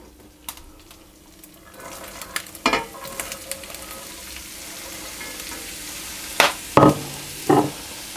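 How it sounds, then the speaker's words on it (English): Chopped celery, onions and carrots frying in oil in a pan, a steady soft sizzle with scattered sharp scrapes and clatters of stirring, growing louder in several bursts near the end. "I'm going to put my celery, my onions and my carrots in."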